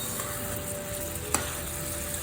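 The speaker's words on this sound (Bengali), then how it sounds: "এই লবণ আর কাঁচা লঙ্কাটাও মিশিয়ে দেবো।" Bottle gourd with salt and green chillies sizzles steadily in a pan as it is mixed, a constant close frying hiss broken by a single brief clink.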